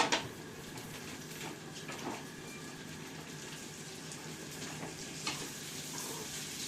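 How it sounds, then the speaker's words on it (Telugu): Fish fries quietly in a home kitchen pan, a soft continuous sizzle with occasional faint clinks and light stirring, no voices over it. "సో ఆల్మోస్ట్ ఫిష్ ఫ్రై అవుతుంది."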